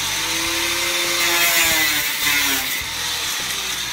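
A cheap, well-worn no-name angle grinder cuts material for building quail cages, a loud, close, continuous whine with shifting pitch as the disc bites and eases.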